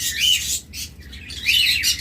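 Lovebirds chirp shrilly in quick bursts close by, with high squeaky calls overlapping in a short noisy flurry.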